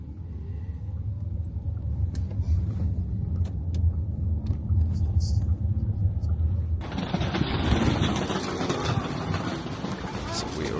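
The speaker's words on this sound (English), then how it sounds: "And now we drive to our hotel in Stavanger city center." A taxi drives through Stavanger toward a city-center hotel, its steady low road and engine rumble heard from inside the cabin, becoming brighter and noisier partway through, with some talk in the background.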